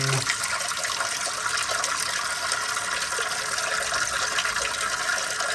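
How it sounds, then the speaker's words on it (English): Steady running water pours continuously from a tap, rinsing a cyanotype print, a constant hissing rush with no pauses and no talking. "Just let the water run."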